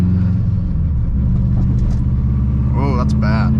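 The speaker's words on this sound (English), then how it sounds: "That rear left rotor sounds warped as shit." Subaru WRX rolling slowly with dragging brakes from a warped rear left rotor, a low rhythmic rumble and grinding hum under the engine drone, with someone talking over it near the end.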